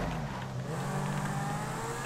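A car engine revs continuously in GTA 5, a steady, loud motor drone with a sustained tone and no pauses, heard alone without talk.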